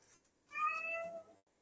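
A single cat meows once, a clear, drawn-out call lasting under a second that rises and falls, fairly close and otherwise alone in a quiet room.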